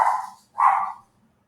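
A dog gives two sharp barks close together, fairly close, with a short gap between them and faint background noise, with no talking.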